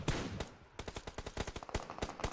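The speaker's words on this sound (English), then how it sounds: "we're hearing a lot of gunshots indeed around" Rapid bursts of automatic gunfire in the PUBG Mobile battle royale game crack in a quick, uneven string of sharp shots, a little distant and fairly faint.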